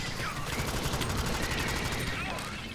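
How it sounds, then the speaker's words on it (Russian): Rapid automatic gunfire rattles in the Alien Swarm co-op shooter, dense bursts of shots running almost throughout with game effects, while a player's voice talks over the action. "По мне просто свои издалека откуда-то стреляют."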